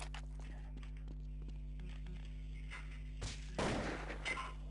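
Counter-Strike 1.6 gunfire sounds as sharp, distant-sounding shots over a steady low game hum, followed by a louder burst of gunshots near the end.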